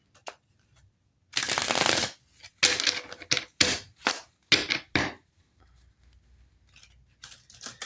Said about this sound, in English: Let me shuffle the deck.